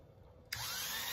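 A hair clipper motor starts up with a sudden high, steady buzz like a drill, holding at an even pitch after the switch-on. It is close but quiet, with no talking.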